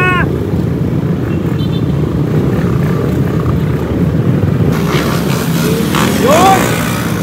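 Motorcycle engine revving hard in repeated bursts, a loud continuous low roar with rising pitch sweeps, while people shout over it.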